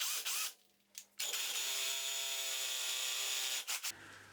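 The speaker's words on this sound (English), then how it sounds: "I'll now demonstrate what happens if you drill the wrong sized hole" A power drill boring an oversized hole into a wall for a wall plug, a sustained whining grind for a few seconds after brief starts and stops, fairly loud and close, with no talk.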